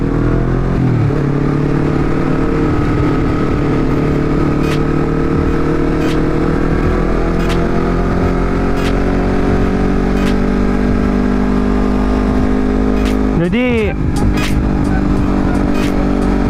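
A Honda CBR250RR motorcycle with an aftermarket exhaust idles loudly and steadily up close. One sharp rev rises and falls near the end, and someone speaks briefly over the engine.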